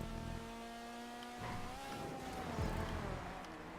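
Racing cars in GTA 5 Online roar and rev close by, with a steady engine drone that rises and shifts in pitch as the cars overtake, and a short tire squeal near the end.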